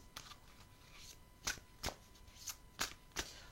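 A Béline oracle card deck being shuffled close up and quietly: soft, crisp riffling bursts in an uneven rhythm, about six distinct flicks, with no talk.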